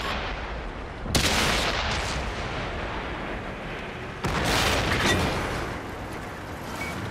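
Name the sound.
T-62A tank cannon firing in World of Tanks video game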